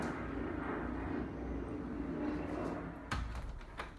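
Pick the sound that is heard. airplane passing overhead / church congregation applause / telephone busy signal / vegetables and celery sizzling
airplane passing overhead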